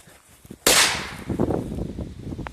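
A Hesti Duży Korsarz firecracker goes off in one sharp, loud bang that decays over about a second, followed by faint rustling and low noise nearby.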